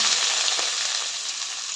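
Chopped onion and tomato dropped into hot oil with crackling mustard and cumin seeds, giving a steady, close, hissing sizzle with fine popping throughout.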